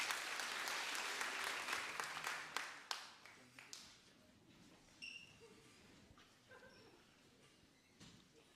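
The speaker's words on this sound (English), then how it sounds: "Yes, let's clap and welcome." A congregation at a church gathering claps to welcome a speaker, a dense burst of applause that swells loud and then thins into scattered claps, with a few faint high yips over the fading end.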